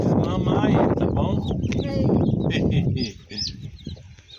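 Hen that has just hatched chicks with a bantam clucking close by amid a busy farmyard, with bird calls and chicken sounds mixed under continuous background talk.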